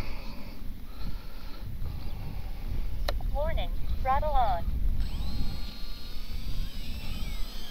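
An 800mm Draco RC model airplane taking off, its small electric motor whining up and rising in pitch as it pulls away over a windy outdoor background, with a person talking nearby.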